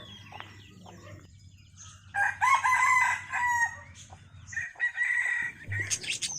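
A bantam rooster crows in a cold, overcast farmyard, giving two loud, close calls with a short pause between them, followed by a shorter crow-like burst. A steady low hum runs underneath.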